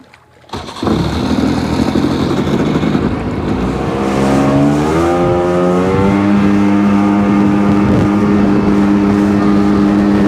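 A Seadoo GTX DI personal watercraft starts with a sudden burst and settles into a steady low-RPM engine drone, with rising and falling tonal harmonics as revs shift, loud and close throughout.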